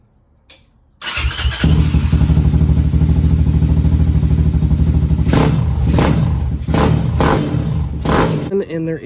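A Kawasaki KLX 140 enduro motorcycle engine starts after a short pause and runs loud and steady close by, with a rough idling rhythm and several sharp revs or clattering bursts near the end.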